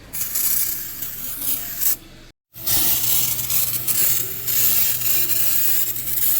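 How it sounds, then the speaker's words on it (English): Brake cleaner hisses loudly from an aerosol can onto the underside of a 2014 Honda Accord engine in two close, sustained bursts separated by a short silent pause. "Now I'm spraying the bottom, making sure everything's all nice and clean on this side."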